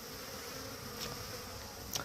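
Honeybees buzzing around a village beekeeper, a steady faint insect hum with a couple of brief closer passes near the end, no voices.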